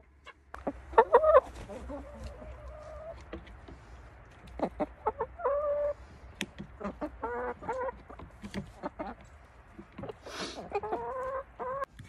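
A chicken clucks in bursts of short, close calls with a few longer squawks, sounding indoors with soft background noise and no speech.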